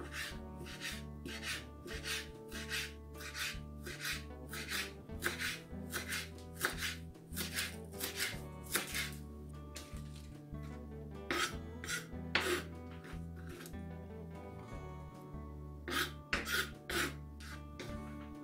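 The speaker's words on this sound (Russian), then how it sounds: "Мелко нарезаю укроп." A knife finely chops dill on a board, a fast, steady run of crisp strokes repeating close by throughout, with no voices.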